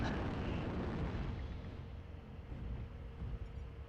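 A gauss rifle shot in the MechWarrior Online mech combat game lands as a heavy, booming blast, with a loud rumbling impact at the start that slowly decays into a low, lingering roar.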